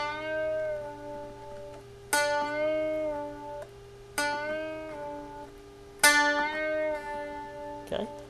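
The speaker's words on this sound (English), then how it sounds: "Now the bend you may be more familiar with is what's called a bend and release." An electric guitar picked three times, each note bent upward in pitch and released back down while ringing, spaced evenly at moderate volume over a low steady hum, with a small thump at the end.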